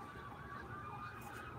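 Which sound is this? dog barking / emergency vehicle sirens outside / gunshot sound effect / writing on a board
emergency vehicle sirens outside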